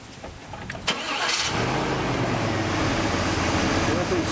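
A Chevy car engine cranks briefly and catches, then settles into a steady idle, close and fairly loud, with a voice speaking faintly over it.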